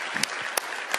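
A church congregation applauds, a brief burst of scattered hand claps with a few sharper individual claps standing out from the soft wash of the crowd.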